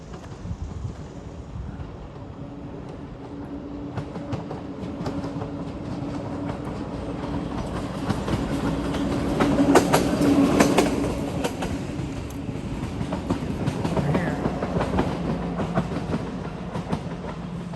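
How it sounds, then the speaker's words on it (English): A train rumbles past on the Montour Trail near the Library Viaduct, steady with rhythmic clattering wheels and faint squeals, swelling in the middle; a voice briefly calls out once. "Now am I hearing a train? I think so."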